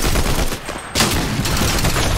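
Combat Assault Rifle fire in Fortnite: a dense burst of rapid shots, a brief break near the middle, then loud sustained firing close up with no talking.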